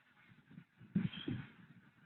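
A flock of ducks on a five-thousand-duck farm quacking and honking at a distance, several calls overlapping, with a louder burst of calls around the middle.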